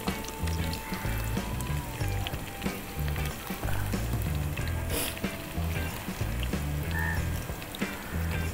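Sheep blood fries with onions in a pan, a dense, constant sizzle with intermittent stirring and scraping close up, and a low rhythmic background hum running underneath throughout.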